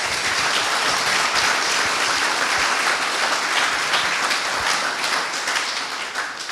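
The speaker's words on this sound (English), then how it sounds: "Why don't we give them a round of applause and say thanks." A hall audience at a Congressional Gold Medal ceremony for Chinese American WWII veterans gives a full round of applause, a thick, even wash of many hands clapping steadily and loudly from start to finish.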